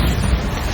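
A Bombarda spell blast in Hogwarts Legacy, a dense low rumbling boom that fills the whole short moment at steady loudness with no voice over it.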